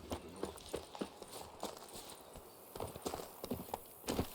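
Hooves of the horse Roach clip-clop steadily in The Witcher 3, an even trotting rhythm of crisp hoofbeats, moderately close and heard without talk.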